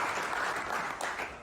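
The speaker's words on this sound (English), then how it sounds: "So let's clap it up for TC." Brief burst of audience clapping during a sports talk podcast, a short patter of hands that fades toward the end.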